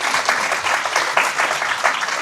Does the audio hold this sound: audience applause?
yes